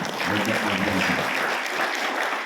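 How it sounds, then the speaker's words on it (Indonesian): Audience clapping fills the room in a steady, dense wash for a couple of seconds, applauding a man being honoured at a sales and business gathering. "Tepuk tangan buat Pak Badrul."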